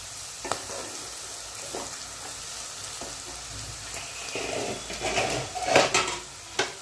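Vegetables for a vegetarian pasta dish frying in plenty of oil in a pan, a continuous sizzle broken by scraping stirs and spoon knocks that grow busier and louder toward the end.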